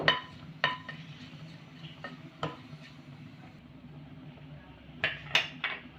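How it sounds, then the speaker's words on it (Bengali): Whole cumin seeds stirred in hot oil in a pan over medium heat, a low sizzle under repeated sharp metallic clinks and scrapes of a utensil against the pan, with a cluster of louder knocks near the end. "তেলের উপর দিলাম গোটা জিরে একটু গোটা জিরেটাকে একটু নেড়ে নেব"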